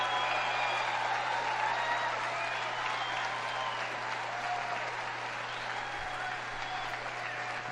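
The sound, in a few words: CPAC crowd clapping, including kids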